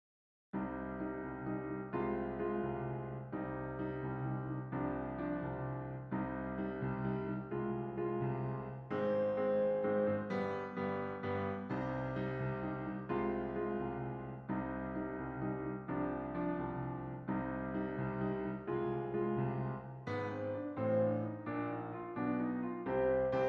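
Piano in Cubase plays a steady chord progression, with sustained chords changing every couple of seconds at an even pace, clean and alone.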